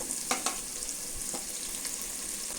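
Finely chopped onions frying in a pan with mutton: a steady close hiss and crackle, with a few soft scraping stirs near the start and no voices.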